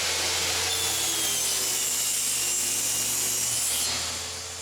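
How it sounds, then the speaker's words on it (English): Power saw trimming the rounded edge off old wooden deck boards, a loud, steady cutting roar with a rough, gritty edge that runs almost continuously before easing off at the end. "I'm going to cut these to 14 inches long, and then I'm going to trim one edge off,"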